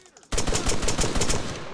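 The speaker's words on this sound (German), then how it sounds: "Jemand schießt auf mich." A sniper rifle shot in the ArmA 3 military game, Zeus DLC, Syrta map: a sudden loud crack after near-silence, then rapid rattling gunfire and echoing shots that continue steadily to the end.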